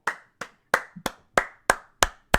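Eight sharp, evenly spaced hand claps, loud and close, each ringing briefly before the next, with no voices over them.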